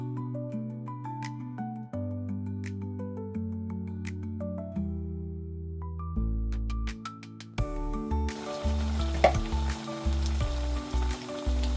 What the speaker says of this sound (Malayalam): നല്ല ഡീപ്പ് ഫ്രൈ ചെയ്തെടുക്കണം.